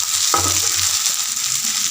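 Onions fry with bay leaf in hot oil, making a loud, dense, close sizzle that runs steadily throughout, with a couple of faint low knocks near the start and no speech.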